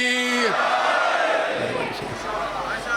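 A large crowd at a majlis shouts a religious slogan in unison, a loud roaring chant that swells and then sustains as massed voices overlap.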